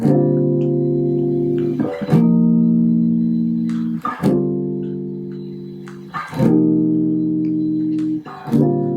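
Jazz guitar comping, chords struck once per measure about every two seconds, each left to ring full and mellow before the next, four chords played alone at an even pace.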